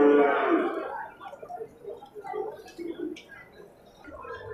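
Cattle at the Bireuen livestock market, among them breeding cows, give a loud nearby moo at the start, followed by softer lowing and market bustle in the background.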